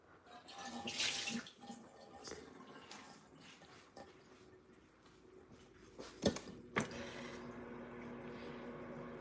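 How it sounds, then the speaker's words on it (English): Boba pearls are rinsed under a running tap, a soft splashing water stream with squishy handling and a couple of sharper clunks, quiet and close. "first I'm just gonna rinse it real quick."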